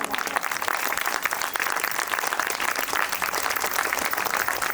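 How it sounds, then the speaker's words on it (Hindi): Steady, dense applause from an audience at a Brahma Kumaris Navratri drama performance, a continuous wash of many hands clapping at even loudness throughout, with no voices standing out. "एक बार बहुत जोर से तालियां बजाइए"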